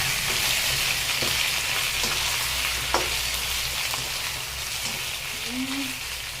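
Shrimp sizzling in a hot pan for garlic shrimp, a steady close frying hiss with faint clinks of stirring throughout.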